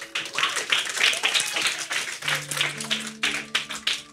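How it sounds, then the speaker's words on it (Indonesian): Young congregation clapping during a church youth service, a lively burst of hand claps with some uneven, rhythmic bursts, while faint tones sound in the background toward the end. "Tepuk tangan lu dong."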